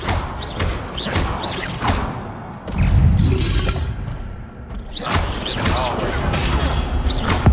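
Levioso levitation spell cast in Hogwarts Legacy, with magical whooshes, mechanical clunks and heavy thuds from combat repeating across the stretch, while a voice is heard at moments.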